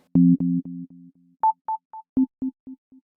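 Short sine-wave synth notes from Pro Tools PlayCell with the echo macro, each hit repeating in a train of fading echoes, with a second higher pitched pattern of bouncing repeats dying away.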